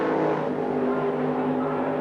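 AUSCAR race cars drone steadily into a braking area at a circuit, engines humming with sustained tonal notes at moderate distance.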